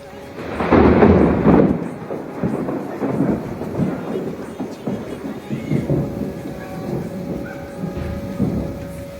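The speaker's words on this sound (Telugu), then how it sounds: "మొత్తం ఉరుములు సౌండ్ కూడా మీకు వినిపిస్తాను" Thunder from a storm over Rajahmundry, with no rain yet, rolls in deep and fairly loud, then trails off into a long, uneven low rumble that fades and swells again. A faint tone holds steady in the background.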